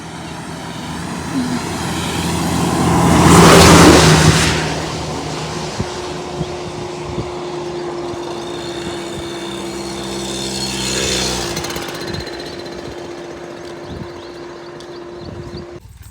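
A vehicle engine is started and revved outdoors on a misty hillside, a loud surging roar swelling early and again later over a steady tonal hum, with faint background voices.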